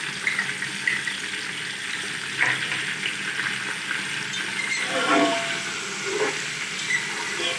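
Chicken pieces fry with ginger garlic paste, onions and whole spices in a pan, a dense continuous sizzle punctuated by a few stirring scrapes and knocks, close and steady.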